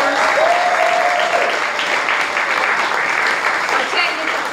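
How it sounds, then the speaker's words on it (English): A full round of audience applause at a storytelling show, loud sustained clapping from the crowd with a voice briefly heard over it at the start. "One more round of applause for our wonderful fellas."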